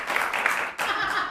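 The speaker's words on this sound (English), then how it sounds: "Let's wait to clap until we see the show." An audience claps in a steady burst of applause that dips briefly and then picks up again, with speech mixed in.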